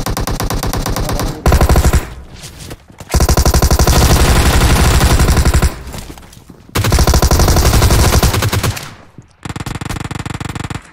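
Loud, close bursts of automatic gunfire in PUBG Mobile, long sustained rattling volleys separated by brief gaps, with no talk over them.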